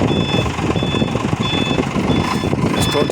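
A truck reverses on a mountain road, its reverse alarm beeping in a steady repeating rhythm over rumbling engine and road noise, close and loud.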